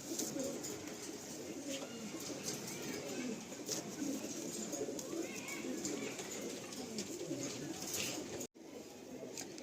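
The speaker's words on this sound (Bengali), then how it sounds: "এবার আমি একজোড়া দেখাচ্ছি টেরি পায়রা" Giribaj pigeons coo continuously in a large loft in Kolkata, layered low burbling calls from many birds close by with occasional wing flutters, briefly cut off near the end.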